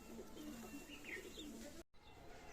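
Pakistani high flying pigeons in a loft coo in low repeated notes with faint chirps, close and fairly quiet, cut off briefly near the end.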